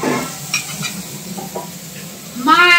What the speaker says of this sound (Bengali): মা এখন সমস্ত ফ্রাইড রাইসের সবজিগুলো ভেজে নিচ্ছে।